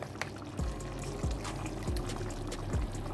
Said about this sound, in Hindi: तो अब हम इसमें जो है ऑयल वो ऐड कर